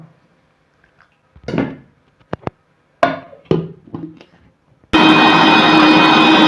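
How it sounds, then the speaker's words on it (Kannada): A mixer grinder grinding masala with tamarind, grated coconut and a little water switches on abruptly and whirs loudly and steadily at the end, after a few soft clinks and knocks of utensils. "ಸ್ವಲ್ಪ ನೀರು ಹಾಕಿ ಗ್ರೈಂಡ್ ಮಾಡುವ"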